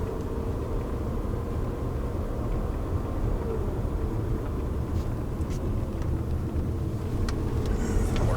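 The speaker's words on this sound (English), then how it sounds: "So you will get some road noise" Steady road traffic drones beside an Arizona highway rest stop, a constant loud rumble of passing vehicles with a few faint higher clicks near the end.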